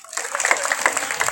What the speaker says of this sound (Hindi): तो एक बार जोरदार तालियां बजाएं।